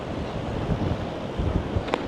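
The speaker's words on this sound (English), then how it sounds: "It's a little bit windy right now." Wind gusting on a beach behind a hotel in Da Nang, buffeting the microphone with a low rumbling roar and faint surf underneath, steady and close with no talking.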